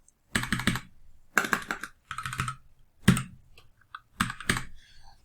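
Several quick bursts of typing on a computer keyboard, clattering keystrokes grouped in short clusters with brief pauses between, close and clear with no talking.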